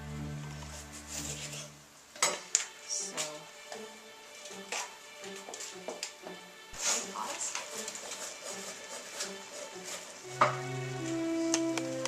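Cut vegetables for steak fajitas hit a pan and start sizzling, with knife taps, stirring and clinks of cookware scattered over a soft, steady frying hiss in a home kitchen.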